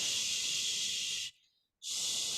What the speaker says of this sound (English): The exhale sounds like this.